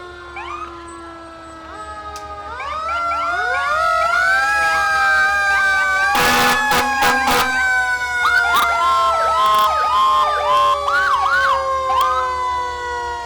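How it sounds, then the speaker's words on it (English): Several loud fire and emergency vehicle sirens wail and yelp together up close during a Fourth of July parade, with short blasts of an air horn cutting through midway. "they're going to play the sirens louder"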